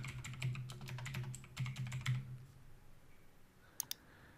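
Computer keyboard typing as a Windows registry key is renamed, a quick run of close key clicks and taps over a low hum, then two sharp clicks after a pause.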